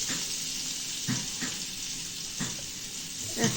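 Potatoes and flat beans seasoned with salt and turmeric fry in a pan with a steady soft sizzle, broken by a few light scrapes and taps from stirring, with no voices.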